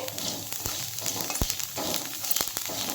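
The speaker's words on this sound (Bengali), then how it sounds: "কালো জিরেটাও কিন্তু শুকনো খোলায় ভেজে নিতে হবে" Black cumin seeds roast dry in a pan on low heat, giving a steady soft crackle and hiss with a few sharp taps from stirring.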